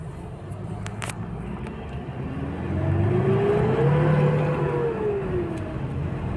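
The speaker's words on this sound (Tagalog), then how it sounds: "Parang galit na yung engine, oh." A Mitsubishi Montero Sport with a 4D56 engine, suffering low power and a check-engine fault that limited it to 3000 rpm, revs on a test drive. The engine note climbs steadily, peaks loud midway, then eases off, with no talk.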